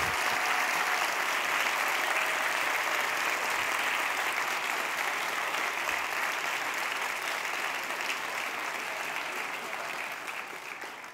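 Sustained audience applause fills a conference hall at a World Domination Summit talk, a dense, steady wash of clapping hands that holds strong throughout and tapers slightly at the end, with no voices over it.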